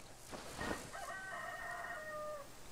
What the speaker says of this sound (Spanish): ¿Por qué canta un gallo ahora de noche,